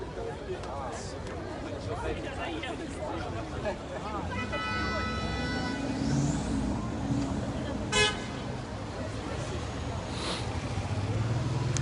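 A bus passing on a Moscow street during a June 12th protest, with a horn sounding in short bursts, over steady crowd babble and traffic rumble.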